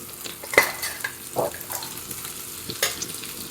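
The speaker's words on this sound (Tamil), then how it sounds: "எண்ணெய் காஞ்சதுக்கப்புறம் நம்ம எடுத்து வச்சுருக்க ஒரு 15 மினிட்ஸ் ஊற வச்சிருக்கலாம் அந்த கருவாடை சேர்த்துக்கலாம்" Soaked dried anchovies (nethili karuvadu) go into hot oil, bringing a soft frying hiss with a few sharp clinks of utensil against pan and occasional stirring bursts close by.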